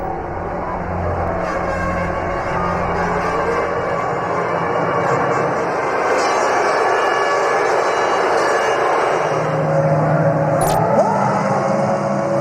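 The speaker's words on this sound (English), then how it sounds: "Alonso's taken to the pit lane. All the Michelin runners are going back to their garages." Formula 1 race cars of the 2005 season heading into the pit lane, heard as a steady engine roar and whine across the whole span, with no voices.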